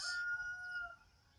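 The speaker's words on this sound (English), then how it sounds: "rooster chickens crowing" A rooster crows once on a homestead, a bright drawn-out call that fades after about a second, over faint low background noise.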